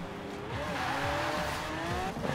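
A Lamborghini launches hard on launch control, its engine revving and pitch climbing through gear sweeps in a brief, close burst with a hint of tire noise.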